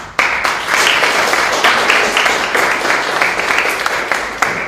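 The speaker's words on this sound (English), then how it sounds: "Please welcome her with a clap of hands." At a literature lecture, an audience breaks into steady applause that starts abruptly and continues as a full, even patter of many clapping hands to the end.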